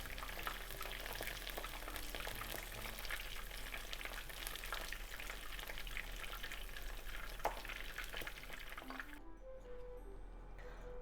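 Okra pieces fry in oil over medium-high heat, a dense, even crackling bubble of hot oil that holds steady for several seconds before cutting away abruptly near the end, leaving only faint clinks.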